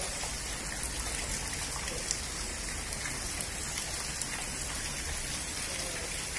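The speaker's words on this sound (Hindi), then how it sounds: "इतनी भयंकर मूसलाधार बारिश हो रही है।" Heavy torrential monsoon rain in Haldwani pours down in a dense, constant roar of drops hitting surfaces, steady and unbroken throughout, with no talk.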